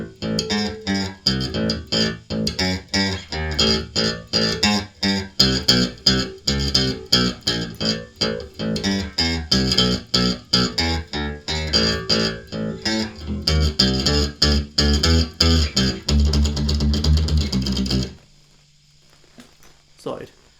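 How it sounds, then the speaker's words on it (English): Clean electric guitar picking single root notes of a song in a steady rhythm, with a short pause before the playing stops and a faint hum remains. "it's going to sound like this if you're just playing the root notes"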